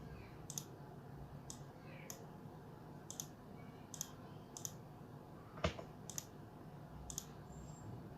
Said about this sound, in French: On clique ici, on clique ça.